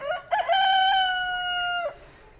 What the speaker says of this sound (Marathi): कोंबड्या आता कुठं ओरडायला लागला.